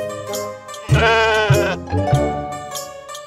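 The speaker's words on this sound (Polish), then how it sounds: "jakiś baran" Ram from the video game Lost in Play bleating in a few wavering, nasal calls, loud and close, with no talking over it.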